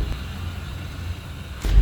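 Car engine idling steadily at low RPM during an engine flush, a continuous low rumble heard close by with no talk, then a brief louder thump at the end.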